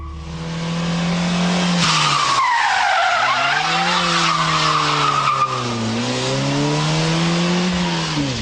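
Ford Puma tyres squeal loudly and continuously as the car drifts on locked rear wheels, with a wavering pitch over the close engine drone.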